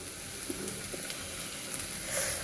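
Potatoes frying in a pan give a soft, steady sizzle with a few light clicks of stirring, fairly quiet and alone.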